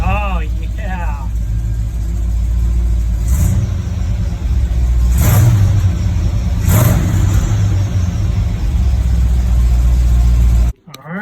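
A vehicle engine runs and revs after a tachometer is wired in, a loud, steady low rumble with several rising revs, briefly overlaid by a whine at the start, before cutting off abruptly.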